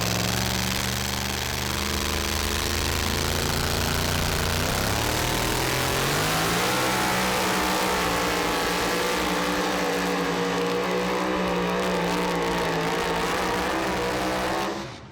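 Modified two-wheel-drive pulling truck engine revving hard and loud, climbing in pitch through sustained high-rpm roars before cutting off abruptly at the end.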